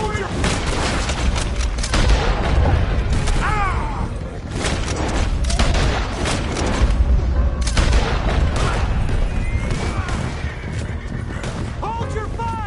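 Dense, loud video-game gunfire with bursts of shots and booming impacts, continuing almost without pause, mixed with shouting voices.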